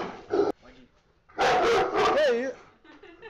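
A Presa Canario barks loudly and close in a short, deep burst, then a longer run of gruff barks with whimpering tones, as someone talks nearby.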